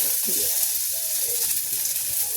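Basmati rice goes into light-brown onions frying in an iron kadhai, producing a continuous, fairly loud hissing sizzle with a soft stirring rustle and no clear talking.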